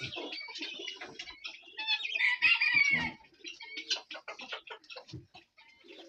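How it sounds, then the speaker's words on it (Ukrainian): Bantam mini chickens flying out of a coop, with a flurry of close clucks, chirps and squawks that peak loudly midway before thinning to scattered calls, with no talking. "Міні кури полетіли."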